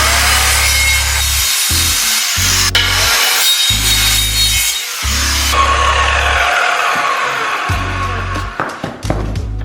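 A power saw cuts a wood panel for a statue display case, running loud and steady in several repeated bursts with short pauses between passes; no one speaks.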